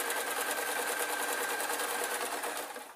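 A sewing machine runs steadily, stitching the bottom seam of a hessian rag rug, a continuous close whirring drone with a faint rapid needle pulse and a thin steady whine, easing off slightly at the end.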